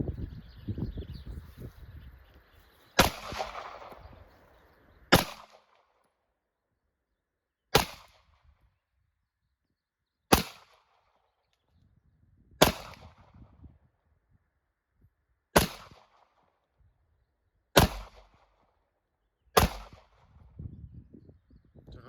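Eight single shots from a Sig Sauer P210 Carry Custom Works pistol on its second magazine, sharp and loud, fired at a slow, even pace with quiet gaps between them.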